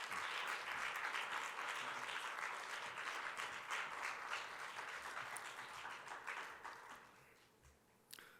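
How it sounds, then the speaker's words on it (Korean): A church congregation at a young adults' service applauds to welcome the preacher, a steady wash of many hands clapping from the room that gradually thins and fades toward the end. "이 마음으로 우리 좀 박수로 우리 전사님 모시도록 하겠습니다."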